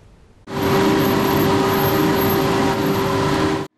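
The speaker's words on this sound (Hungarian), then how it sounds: "Fékpadon az autó, műszaki vizsga zajlik az egyik paksi szerelőműhelyben." Car on a brake test bench during a vehicle inspection in a mechanic's workshop in Paks, Hungary, giving a loud, steady mechanical whir with a constant hum that starts abruptly, holds for about three seconds, then cuts off.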